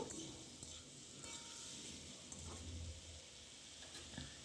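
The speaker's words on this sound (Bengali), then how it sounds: "দেখো লতিগুলো আমি ভেজে নিচ্ছি" Taro stolons seasoned with salt and turmeric fry in a pan with a faint, continuous sizzle. A utensil stirs and scrapes at times, and the whole sound stays quiet and close.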